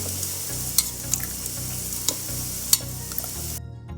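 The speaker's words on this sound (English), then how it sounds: "So our potatoes and peas have mashed very nicely" A spoon mashes boiled white peas and potatoes in a pot, giving soft, squelchy scraping with a few sharp metallic clinks against the vessel, up close and without talk.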